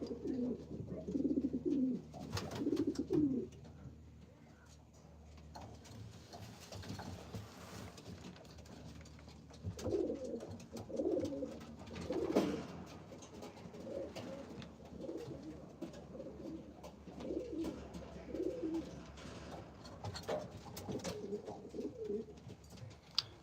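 Pigeons in a breeder loft coo in low, rolling bursts, loudest early and again through the second half, with faint background rustling and no talk.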